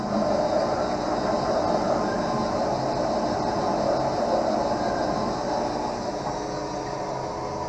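Bevel wheel of an optical lens edger grinding an eyeglass lens, a steady, dense whirring grind that stays constant and loud from start to finish, with no voices.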